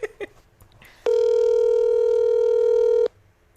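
A steady telephone dial tone sounds alone for about two seconds as a phone call is placed, loud and close, starting and stopping abruptly after a few faint room noises.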